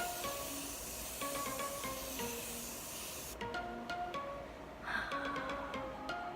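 A makeup setting spray puffs out a fine mist in a steady, soft hiss that runs close and continuous, with faint clicks and small bumps mixed in.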